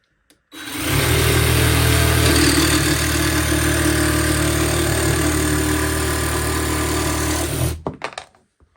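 A Parkside 2-in-1 jigsaw and reciprocating saw starts up and runs steadily for about seven seconds, with a loud continuous motor whine and buzzing hum. It then cuts off and winds down with a few brief rattles.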